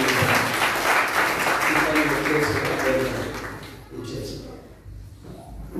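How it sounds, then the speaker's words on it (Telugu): A church congregation clapping loudly together, dense sustained applause that fades after a few seconds into quieter room noise. "గట్టిగా చప్పట్లు కొట్టండి."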